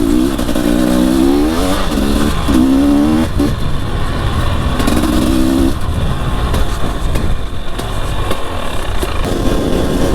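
An enduro motorcycle rides a muddy trail, its engine loud and close, revving up and down in repeated rising bursts over a constant rough rumble, with no talking.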